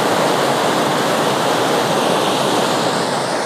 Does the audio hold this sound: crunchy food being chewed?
no